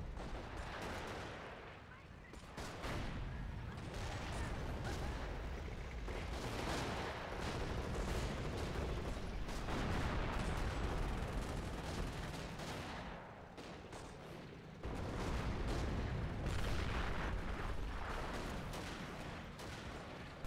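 Mortars and other guns fire continuously in a strategy video game battle, a dense, loud wall of booms and rattling shots that barely lets up, dipping briefly mid-way before surging again.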